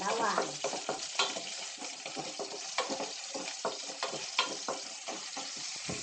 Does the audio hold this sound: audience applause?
no